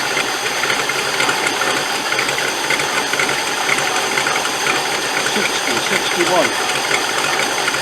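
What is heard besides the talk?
Land Rover 110 V8 engine running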